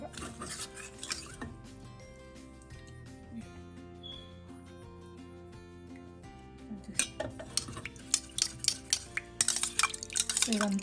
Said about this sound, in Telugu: సో ఇలా ఒకసారి ఇలా గట్టిగా మిక్స్ చేసేసి